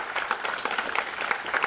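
Brief applause from the courtside crowd at the World Doubles Squash Championships finals, a short burst of scattered, moderately loud clapping.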